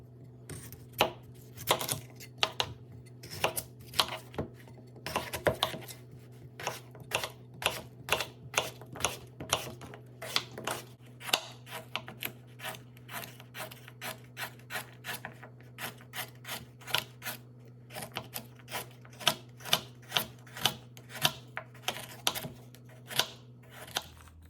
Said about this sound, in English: I'm just gonna cut these fresh vegetables